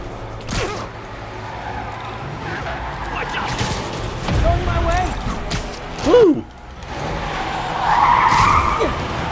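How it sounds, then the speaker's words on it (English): Car chase in the Marvel's Spider-Man video game, tires squealing and skidding repeatedly under roaring engines, with a loud screech near the end and a person talking over it. "Oh, it's a car chase."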